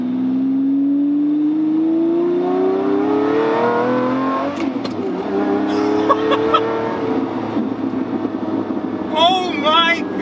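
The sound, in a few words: Lamborghini accelerating at full throttle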